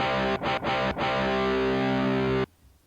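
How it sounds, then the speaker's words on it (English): A heavily distorted electric guitar chord through an Orange Terror Stamp amp sustains loudly, chopped by a few quick stutters early on, then rings out before cutting off sharply. "let's mess around with this guitar part"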